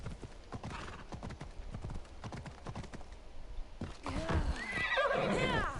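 Video game horse: rapid hoof clip-clops at a quick gallop, followed by a loud, wavering neigh close up.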